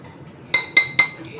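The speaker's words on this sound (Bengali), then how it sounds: "এই সুগার আর এই কফিটা একটু মিশিয়ে নিচ্ছি।" A spoon clinks three times against a cup while mixing sugar and coffee for Dalgona coffee: close, bright, evenly spaced taps over a quiet room.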